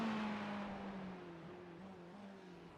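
A Viper race car in a Niza Motul sprint test race drives on the track, its engine note droning and slowly fading with the pitch wavering slightly, faint with no talking.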